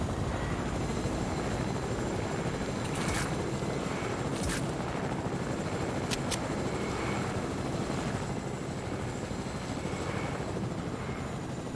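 Helicopter rotor in a battle royale video game, a steady broadband whir filling the background throughout with a few brief sharper clicks, no talk over it.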